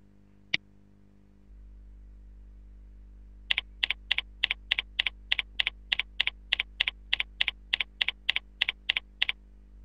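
Keys on a computer keyboard are typed in a fast, even run of about twenty crisp clicks while a login name is entered. The clicks sit close against a steady low hum, with a single sharper tap before them.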